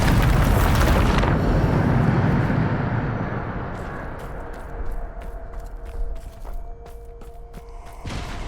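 A Bombarda spell explosion in Hogwarts Legacy erupts as a loud, broad blast that rumbles and slowly fades, leaving a few clicks and faint game tones in its wake.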